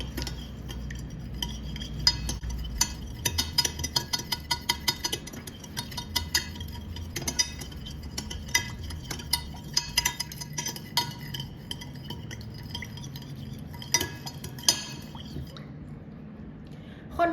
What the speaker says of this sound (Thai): ก็คนให้เขาละลายเข้ากันนิดหน่อยนะคะ